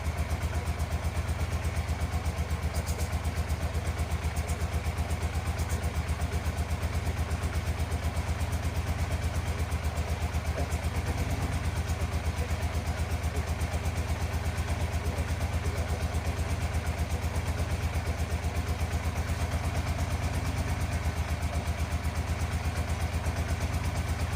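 A 1987 Yamaha FZR 1000 Genesis motorcycle idles after being brought back to life, left running to recirculate fuel. Its steady, even engine rhythm holds close and constant throughout, with a faint clatter underneath.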